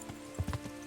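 Horse hooves clip-clop in a short, close burst of a few uneven steps in the medieval role-playing game Kingdom Come: Deliverance.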